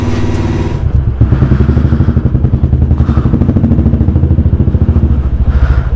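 A motorcycle engine idles close by to warm up before a ride through thick fog to Rohru, a steady, loud throbbing putter with even rapid pulses throughout.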